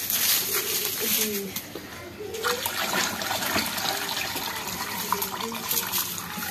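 Water splashes and trickles steadily as liquid is poured, with background clatter and birds chirping faintly throughout.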